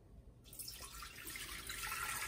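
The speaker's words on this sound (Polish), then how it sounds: "I potem wlewamy wodę do naczynia" Water runs steadily into a Thermomix TM6 bowl after a brief quiet start, a continuous splashing pour close by that grows slightly fuller as it goes.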